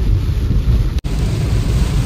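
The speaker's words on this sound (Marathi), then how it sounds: "तुफान पाऊस आहे, तुफान पाऊस आहे" Heavy monsoon rain pours down in Sindhudurg with a loud, steady roar and wind buffeting the microphone, broken by one very brief dropout; no distinct thunderclap stands out.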